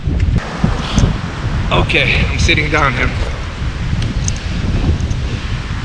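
Strong wind buffets the microphone at the steep Pali Lookout cliffs on Oahu, a constant roaring rush across the whole clip while someone speaks briefly over it.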